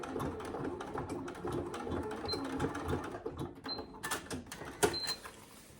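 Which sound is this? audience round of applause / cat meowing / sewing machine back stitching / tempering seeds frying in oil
sewing machine back stitching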